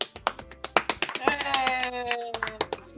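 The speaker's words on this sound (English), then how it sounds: "and everyone applauds." Applause in the video game Doki Doki Literature Club: a quick burst of scattered hand claps from a small group, crisp and close, rising into a dense patter before thinning to a few final claps, with a soft musical tone underneath.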